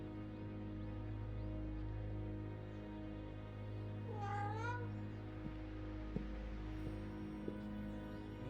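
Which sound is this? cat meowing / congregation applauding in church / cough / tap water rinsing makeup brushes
cat meowing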